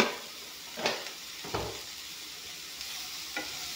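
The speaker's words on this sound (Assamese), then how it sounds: "আলু ভাত কেৰেলাখিনি ধুনীয়াকৈ ভাজি ল'ম।" Bitter gourd and potato pieces with salt fry in a pan with a soft continuous sizzle, broken by a few brief stirring scrapes.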